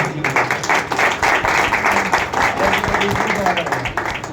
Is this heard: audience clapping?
yes